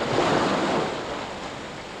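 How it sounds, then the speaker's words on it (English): Ocean waves wash onto the coast in a broad, continuous roar mixed with wind noise, loud and close, with no talking. "Hearing the waves and the gulls?"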